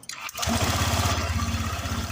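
A motorcycle engine fitted with a kill switch starts after a brief starter whirr, catching into a steady, close, pulsing idle that carries on evenly.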